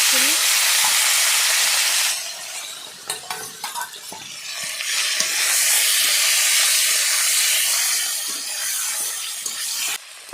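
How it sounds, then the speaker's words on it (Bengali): Fish frying again in a freshly scrubbed wok, a loud steady sizzle and hiss running throughout, broken by a few sharp clatters of stirring near the middle. "মাছ এমনি কালকেই ভাজা ছিল তো আবার একটু ভেজে নিলাম"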